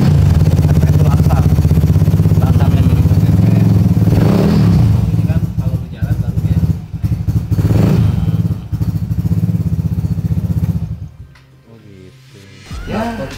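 A Vespa scooter engine runs loud and close, buzzing steadily with a few rev changes, then dies down near the end while people talk over it.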